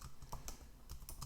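Fingers type a command on a computer keyboard, a quiet, close cluster of a few crisp key taps in an uneven rhythm, with no one talking.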